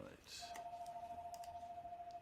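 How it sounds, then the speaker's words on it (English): A landline telephone rings indoors with a steady electronic tone that holds for about two seconds, fairly faint in a quiet room. "Is that a phone? That's a landline, man."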